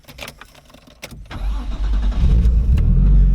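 A Nissan Skyline R33 GTST starts up: a few faint clicks and rustles, then the cranking engine catches and settles into a loud, steady, deep idle close by.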